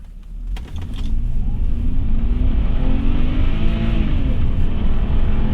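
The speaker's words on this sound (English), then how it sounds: "here's a run from 0 to 60 in sport mode" An old BMW in sport mode accelerates from a standstill toward 60 mph, engine drone climbing steadily in pitch and staying loud, heard from inside the car.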